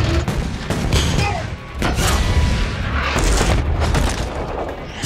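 Gunfire and heavy explosions fill a Transformers: Revenge of the Fallen final battle scene at the pyramids, with dense booming blasts and rapid shots running loud and continuous throughout, without a break.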